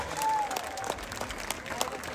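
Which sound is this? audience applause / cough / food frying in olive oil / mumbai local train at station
audience applause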